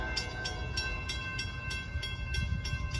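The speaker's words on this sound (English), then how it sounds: "Here is CSX Y121 right now." CSX Y121 freight train passing with a single boxcar, a low steady rumble of rail noise with faint repeating rhythmic clacks, heard from a moderate distance.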